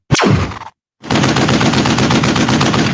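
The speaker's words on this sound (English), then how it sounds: "let's get our gunshots ready" Loud gunshot sound effects: a single sharp blast with a quick decaying tail, a short silence, then a sustained rapid burst of automatic gunfire, alone with no voices.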